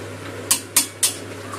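Spoon stirring biulir dal with ginger paste in a cooking pot over a gas flame, three quick metallic scrapes in an even rhythm over a low steady hum.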